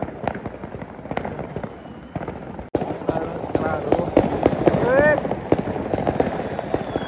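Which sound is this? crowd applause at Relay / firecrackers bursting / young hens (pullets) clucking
firecrackers bursting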